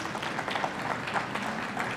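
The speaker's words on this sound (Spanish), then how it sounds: "Un aplauso, por favor, para Sonia." An audience applauding a guest at a political book launch event, a steady dense wash of clapping throughout, moderately loud, with a faint voice underneath.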